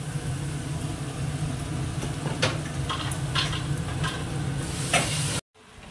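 Jute leaves fry in a pan with turmeric and salt, giving a constant close sizzle broken by several scraping stirs of a utensil, before the sound cuts off abruptly near the end.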